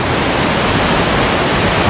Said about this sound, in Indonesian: Ini kita dengar suara air terjunnya deras banget guys ya